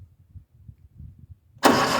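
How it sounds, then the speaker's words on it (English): A Branson 5520 tractor's engine cranks in low, uneven starter churning for over a second, then catches and roars into a loud, steady running rumble, close by. "the engine starting up slowly"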